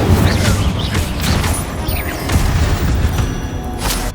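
Incendio fire spell blasts in Hogwarts Legacy, a loud dense run of booming, crackling bursts with whooshing flares, continuous for a few seconds inside a tomb.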